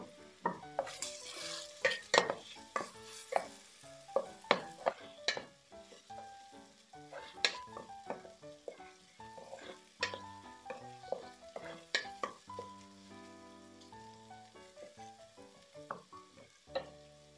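Onions and garlic fry in a pan for Filipino-Chinese pata tim, a soft sizzle under repeated sharp clinks and scrapes of a utensil stirring against the pan, irregular and close, with no talking.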